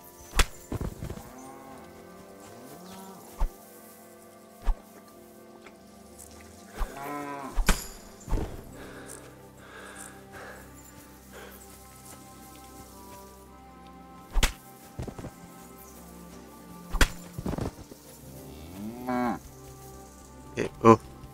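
Several cows moo at intervals over a low background hum in the video game Kingdom Come: Deliverance II, some calls long and drawn out, interspersed with occasional sharp thuds.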